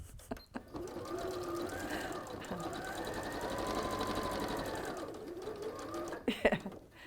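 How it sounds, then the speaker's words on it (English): Sewing machine edge stitching close to the fabric edge, a steady close whirring run of about six seconds, with a person talking over it. "So this is now called edge stitching because you're stitching close to the edge"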